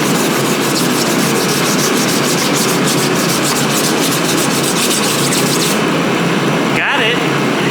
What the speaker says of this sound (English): Let's just keep sanding and see if it comes out.